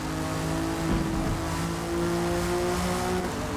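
Aston Martin race car accelerating hard on track at Silverstone during a historic race, a loud sustained engine roar with steady rising tones from close onboard, no talk.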